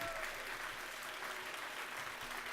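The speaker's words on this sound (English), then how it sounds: "let's give all of our student performers and their teachers one more round of applause." At an elementary school dedication ceremony, an audience gives student performers and their teachers one more round of applause, a quiet, even patter of many hands clapping throughout, somewhat distant.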